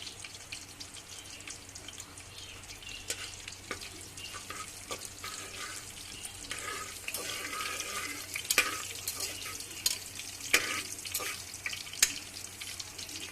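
Biryani ingredients fry in ghee as they are stirred, giving a soft, quiet crackling sizzle with scattered sharper pops and scrapes that grow slightly busier toward the end, with no talking.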